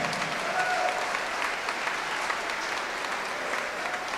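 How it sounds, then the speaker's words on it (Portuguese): A church congregation breaks into steady applause during a sermon, a dense, even wash of clapping held at a constant level throughout with no voices over it. "Pode aplaudir"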